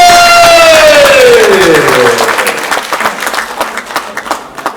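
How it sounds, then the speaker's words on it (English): An audience applauds a poet at an African book prize award ceremony, loud clapping that starts with a falling musical tone, swells, then thins into scattered claps. "I need a bigger and better round of applause for Dube!"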